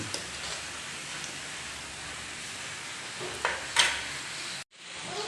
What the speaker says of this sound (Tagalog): Haluin natin para matunaw yung sugar.